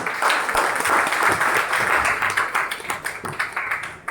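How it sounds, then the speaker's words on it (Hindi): Enthusiastic audience applause at a public event in Gorakhpur as a guest is called to the stage, dense crowd clapping that continues steadily and then thins into scattered individual claps near the end. "जोरदार ताली होनी चाहिए"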